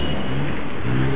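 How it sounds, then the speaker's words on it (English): A Toyota Hilux engine revs in a short, loud, steady burst, close by and low-pitched, with no voices over it. "Mighty Hilux."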